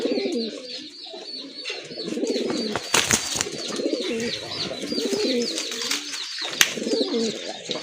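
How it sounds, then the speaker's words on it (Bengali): Pigeons of fancy breeds kept as pairs coo repeatedly in soft, rolling phrases close by, several birds overlapping continuously against a busy background of other chirps. "অসাধারণ এক জোড়া কবুতর, যাদের এই জোড়াটা ভালো লেগেছে।"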